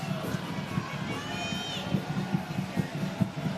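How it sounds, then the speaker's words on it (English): Stadium crowd noise at a San Antonio FC versus Lexington SC soccer match, a steady roar and cheering from a large crowd with rhythmic clapping or stomping beats, a distant announcer voice briefly audible over it. "tells the crowd to roar a little louder"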